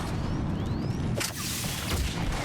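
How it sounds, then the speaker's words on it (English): An explosion from a mine goes off in the video game Mass Effect 3, a broad rumbling burst with whooshing debris, loud and close, with no talking over it. "Explosion!"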